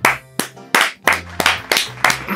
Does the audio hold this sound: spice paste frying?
no